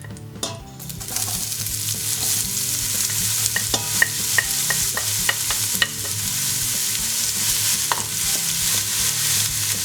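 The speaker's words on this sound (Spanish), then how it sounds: "Empezamos sofriendo la cebolla." Chopped onion sautés in oil in a pan for a vegan porrusalda, a steady bright sizzle broken by sharp utensil clicks and scrapes as it is stirred, close and continuous with no talking.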